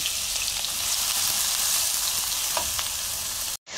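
Sliced onion sizzles in hot oil in a frying pan, a steady close hiss with faint crackles throughout that cuts off abruptly near the end.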